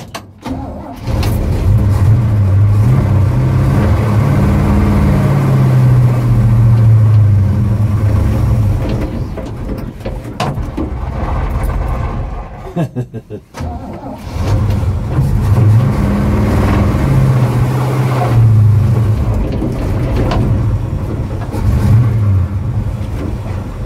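Engine of a 1953 Chevy pickup truck, long off the road, running while driving: a steady loud low rumble with rising and falling revs, a brief dip midway, then pulling again.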